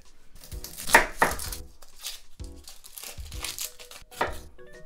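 A knife cuts an onion into very small pieces on a cutting board, giving irregular crisp crunching slices and soft knocks against the board, some strokes louder, with quiet gaps between them.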